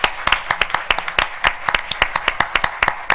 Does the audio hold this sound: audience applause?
yes